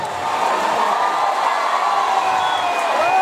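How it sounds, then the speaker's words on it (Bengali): Audience at a live concert applauding and cheering together in a sustained, loud wash of clapping and shouts, with no pause. "জোরে হাততালি"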